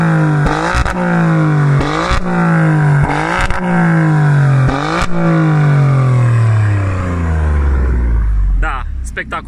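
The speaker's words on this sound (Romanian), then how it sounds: "eu o să mă duc acum la eșapamente ca să înțelegeți cum se aude această mașină în modul race" A 2018 Alfa Romeo Stelvio QV revving its exhaust in race mode, close and loud: several sharp blips that rise and drop in quick succession, then a long falling note as the engine settles, with a brief word spoken at the end.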